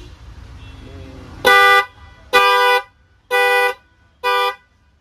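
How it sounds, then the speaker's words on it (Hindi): A loud Creta-type car horn honks four times in a steady rhythm, each blast lasting about half a second, close by, after a faint voice at the start. "बड़ा टाइप का हॉर्न है, मैं एक बार फिर से आपको दिखाता हूँ बजा के।"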